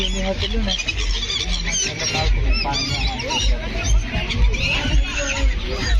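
Many birds honk and squeal in a dense, continuous chorus on the seashore at Dwarka, with people talking nearby and a low rumble of wind or surf underneath.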